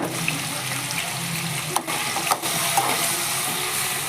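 Mutton pieces frying in two ladles of hot oil in a kadai, a steady close sizzle broken by a couple of brief scraping or stirring knocks, no one speaking.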